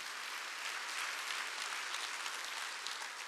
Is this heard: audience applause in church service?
yes